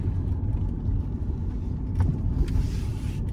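Cabin rumble of a naturally aspirated Nissan 300ZX being driven, a steady low engine and road drone heard from inside, with a few faint clicks and a soft rushing swell near the end, no talking.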